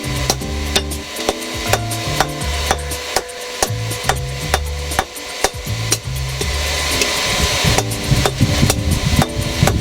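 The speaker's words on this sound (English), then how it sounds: "I'll file that bit off, I think." Hand file working across forged steel to remove rebar marks, steady repeated rasping strokes close up with metallic ringing overtones, no talk.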